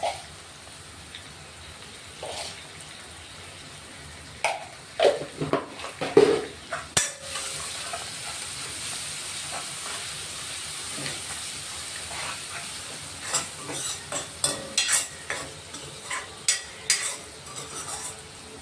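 Onions frying in a pan with asafoetida and salt, giving a soft steady sizzle. Frequent clinks and scrapes of a spoon stirring against the pan run through it, with no talking.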